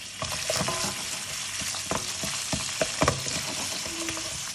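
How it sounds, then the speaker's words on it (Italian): Mantis shrimp heads frying in hot oil with garlic and chilli, a steady bright sizzle broken by a few sharp pops and scrapes of stirring, close and fairly loud with no voices. "facciamo riscaldare un po' l'olio. A questo punto mettiamo le teste"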